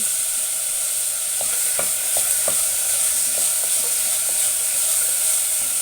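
Pieces of jackfruit seed fry in hot oil in a pan with a steady, loud sizzle and hiss, and a spoon stirs them with a few scraping clicks early on. Nobody speaks.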